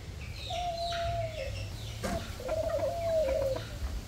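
Chickens in a backyard coop give drawn-out calls, two long crowing notes separated by a short gap, over a steady low background hum.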